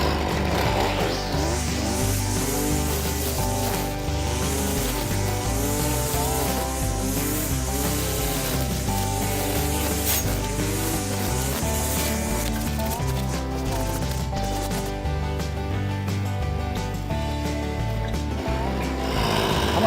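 A small gasoline engine on a tool runs steadily near the microphone, buzzing loudly and unbroken for about twenty seconds while it is deliberately run until the fuel tank is dry.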